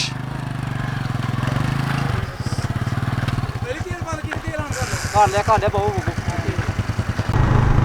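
A motorcycle engine runs while riding up onto an embankment, a steady pulsing drone that shifts in pitch as it labors, with people talking loudly over it.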